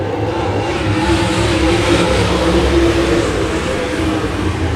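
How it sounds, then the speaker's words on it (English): Race cars accelerating together on a green-flag restart at a dirt track, a dense, loud engine roar that holds steady throughout with no talk over it. "the green flag does come out with Brandon Overton, your race leader"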